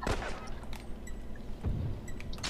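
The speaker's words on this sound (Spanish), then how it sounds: "¿Cuántos tiros a la nieve, eh?" Gunfire from The Last of Us online multiplayer, shots fired into snow: a burst of loud, sharp reports at the start, another cluster near the middle and faint shots at the end over a dense rumbling game soundscape.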